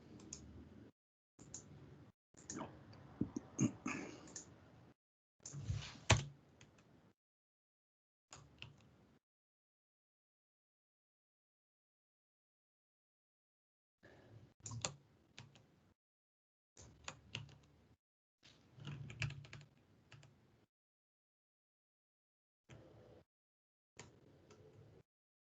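Bursts of computer keyboard typing during an online meeting, irregular clusters of quick clicks separated by silent pauses, close and moderately loud with no talking.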